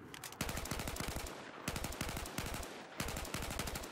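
M4/M16A4 rifle in Battlefield 4 firing in burst mode: three loud, rapid strings of gunfire in a steady rhythm, each followed by a brief gap, close and dominant with no voices.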